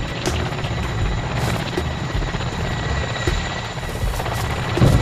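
Helicopter flying overhead during an outdoor airsoft skirmish, a steady loud rotor drone filling the whole stretch with faint distant pops and no talk.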